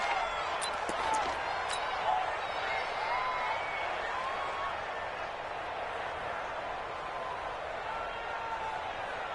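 A stadium crowd in the Madden NFL 19 football video game roars steadily, a constant wash of cheering that swells slightly near the start and holds through to the end.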